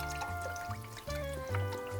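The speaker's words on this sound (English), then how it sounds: "You pour the whole thing in there? Pour the whole thing in there." Vegetable broth glugs from an aseptic carton into a soup pot in a home kitchen, a short gurgling pour with rhythmic surges over a faint background tone.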